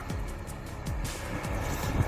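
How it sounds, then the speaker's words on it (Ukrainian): A McCormick X7.690 tractor works a ploughed field in Kirovohrad region, its engine a steady low drone that grows slightly louder as it approaches, mixed with wind buffeting. "Ось ми маємо наближення тракторця"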